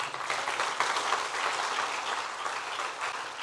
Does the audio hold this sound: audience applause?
yes